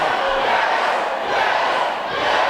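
A packed wrestling crowd at an indie show in Cork roars and chants steadily, a dense, loud wall of voices that swells slightly and never drops out.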